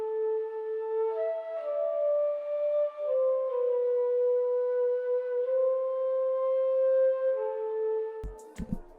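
A chord pattern played on the Surrey band instrument from Aria Sounds, loaded in Kontakt with its normal preset, repeats smooth sustained chords with no added effects, ending in a brief noisy clatter.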